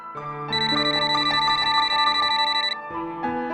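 A landline telephone rings with a bright, electronic warbling tone, loud and close, in one long burst followed by the start of another.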